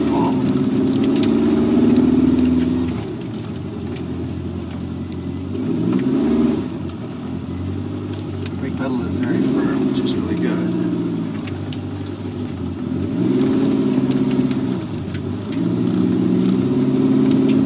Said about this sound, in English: I'm just going to drive around the block a few times and not get too far from home